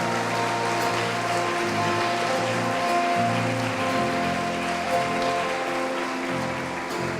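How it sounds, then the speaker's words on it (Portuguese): A church congregation applauds together during a worship service, a steady, dense wash of clapping that fills the whole stretch at close range with no voices standing out. "Vamos aplaudir o Senhor Jesus."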